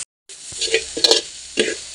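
Mandai (fermented cempedak rind) sizzles and crackles in a hot dry wok with no oil, with a few scraping stirs breaking through the steady frying hiss; close and fairly loud, no talking.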